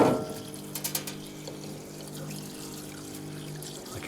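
Solvent fluid pours and trickles steadily in a parts washer, flushing out a seized Stihl FS 260C line trimmer engine. The liquid runs continuously, close and quiet, with a few brief splashy bursts near the start.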